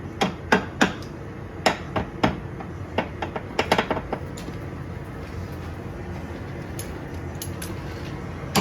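Sharp metallic hammer strikes ring out while working on car studs during an oil cooler installation, a dozen or so irregular clanks clustered early then thinning into quieter taps over a low background.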